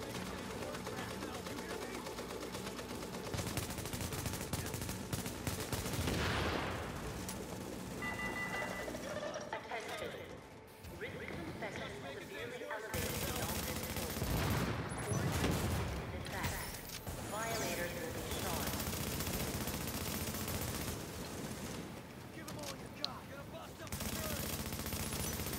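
Rapid gunfire in the video game The Division in a Times Square setting: dense, sustained bursts of shooting with short gaps, loud and continuous, with voices talking over the top.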